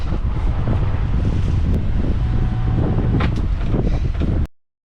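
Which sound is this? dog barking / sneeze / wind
wind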